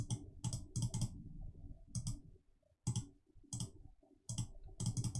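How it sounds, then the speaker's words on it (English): A mouse clicking repeatedly on a password generator, with crisp clicks in quick bursts and short pauses between them, close and fairly quiet, with no speech. "Just keep clicking this a few times till we get to something that looks good."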